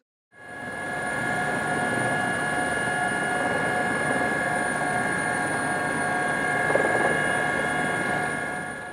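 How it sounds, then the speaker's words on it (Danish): A helicopter arrives at a military exercise, a steady, loud rotor and engine drone that holds evenly for the whole stretch with no break. "Lørdag morgen ankommer en helikopter,"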